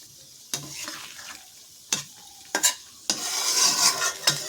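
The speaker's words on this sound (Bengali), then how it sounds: "খালি মাছটা আমি এইভাবে একটু করে নাড়া দিয়ে দেবো।" Fish in a hot pan gets stirred, with several sharp scraping strokes of a utensil over a soft sizzle that swells toward the end, close by and without talk.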